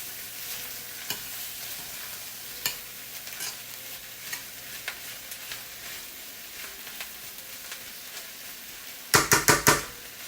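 Turkey smoked sausage with onions and bell peppers frying in a pan: a continuous soft sizzle with scattered light scrapes and taps, then a burst of four sharp metallic knocks near the end, close and without speech.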